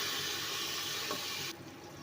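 A splash of water added to a cooking pot of village-style mustard greens, spinach and mutton being browned, heard as a steady rushing hiss that cuts off abruptly partway through.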